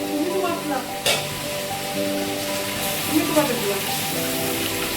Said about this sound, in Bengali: তো এবার দেখো রসা আমাদের কষানো হচ্ছে।